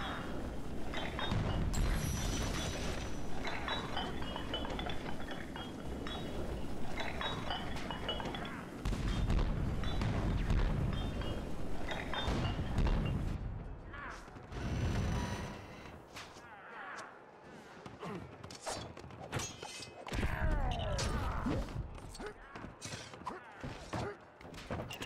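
Pirate ship cannons firing in the Lego Pirates of the Caribbean PC game, heavy booming blasts and rumbling volleys mixed with dense battle noise, loud and continuous with a brief lull midway before more bursts.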